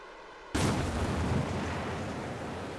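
A rocket engine ignites in Kerbal Space Program, a sudden loud onset into a steady, dense roaring rumble that holds for the rest of the clip with no talk over it.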